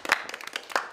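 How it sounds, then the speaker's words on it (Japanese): A short burst of clapping from a Japanese variety show audience, a few sharp, separate claps in quick succession with no talking. "では、2人に大きな拍手"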